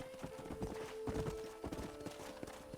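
Horse hooves clip-clop in a steady rhythm across a Red Dead Redemption game scene, close and fairly prominent, with a sustained tonal hum running underneath.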